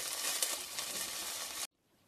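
Chopped onion frying in olive oil in a pot, a steady hissing sizzle that is fairly quiet, stopping abruptly shortly before the end.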